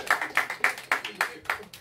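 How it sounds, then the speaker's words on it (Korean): A group claps in a quick, even rhythm at a church camp gathering, about seven sharp, close claps in under two seconds, with no talking. "자, 박수!"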